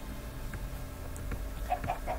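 Faint, scattered chicken clucks in Minecraft over a low background hum, a few short calls near the end.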